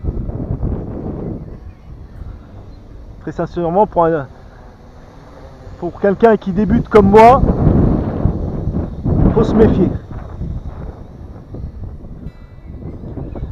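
Gusty wind buffets the microphone outdoors during a test flight of a Wltoys Q333A RC drone, a low, rumbling roar that rises and falls beneath someone speaking throughout.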